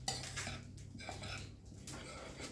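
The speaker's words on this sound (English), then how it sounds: "So I'm just stirring it with my spoon." A spoon stirs fine flour in a bowl for cookie dough, giving soft scraping and light clinks of metal against the bowl, repeated in short irregular strokes up close.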